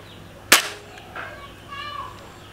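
A single sharp gunshot fired through a chronograph during velocity testing, a loud close crack followed by a short fading echo and quiet room tone.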